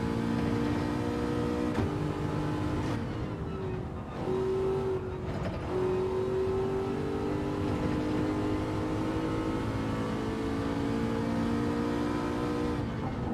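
An Aston Martin's engine drones steadily while racing in the Gran Turismo 7 video game, holding a continuous tone with brief pitch dips and rises as the car shifts and accelerates.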